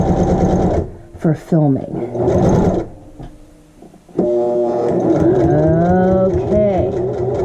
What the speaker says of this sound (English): I'm sewing at a slightly awkward angle